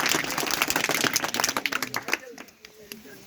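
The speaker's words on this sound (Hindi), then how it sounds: "चलो भैया जोरदार तालियों से स्वागत किया जाए" An audience applauds to welcome a speaker at a poetry event, brisk close clapping that stops abruptly, followed by faint room murmur and a few stray taps.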